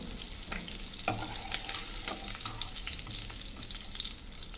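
Salt fish and brinjal curry frying in a pan, giving a steady close sizzle with occasional soft stirring scrapes, no voices.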